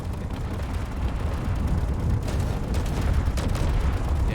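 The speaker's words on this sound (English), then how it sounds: "you can barely render the railgun shots" Railgun fire in a Space Engineers battle between AI ships on a lake: a dense, continuous rumble of booming shots and bursts, with no separate hits standing out.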